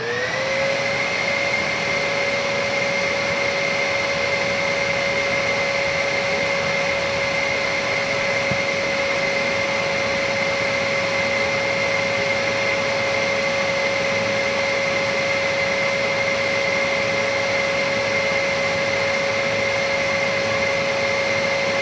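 A Bissell Heavy Duty 50C9 vacuum cleaner runs continuously on an airflow test box, a loud steady motor whine with a constant high tone and rushing air, unbroken throughout.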